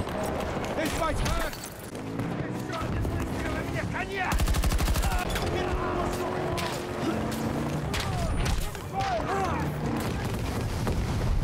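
Rapid bursts of automatic gunfire rattle against a tank in the Battlefield 2042 video game, loud and near, mixed with explosions and battle noise while players talk over it.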